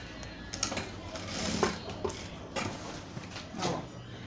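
A sewing machine stitches fabric ribbon for a bow in short, uneven bursts, with quiet pauses between the runs of mechanical chatter.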